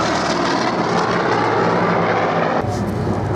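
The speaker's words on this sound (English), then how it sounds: "The Mark 1, the FU-1, is flown by Keith Skilling" A Vought F4U-1 Corsair fighter flies past at an airshow, its propeller engine roaring loud and steady throughout, with the tone shifting near the end as it passes.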